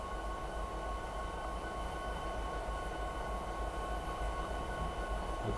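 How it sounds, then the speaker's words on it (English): SD70MAC diesel locomotive in the Train Simulator 2017 game, a steady low engine rumble with a constant mechanical hum running evenly throughout, no talk. "This is our train."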